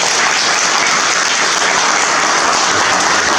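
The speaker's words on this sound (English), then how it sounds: "give Ron Lawrence a round of applause" An audience at a hip hop book signing and reunion in a library breaks into steady, dense applause, loud and continuous with no talking over it.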